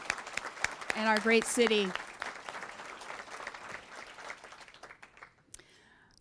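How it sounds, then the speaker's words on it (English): Audience applause at a city State of the City address, a burst of clapping from a crowd that swells then tapers off over several seconds, heard beneath a speaker's amplified voice. "Another round of applause for our incredible mayor"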